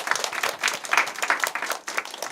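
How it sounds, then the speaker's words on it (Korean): A church congregation at a Sunday worship service claps together in a brief, lively burst of overlapping applause that carries steadily for a couple of seconds in a large room. "기도하실 분만 한번 박수 더 해주시겠어요?"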